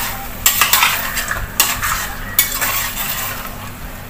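A chana dal and chicken pulao mixture is fried and stirred in a pot, with repeated loud scraping strokes of a spoon against metal over a soft sizzle, about five or six strokes in quick succession.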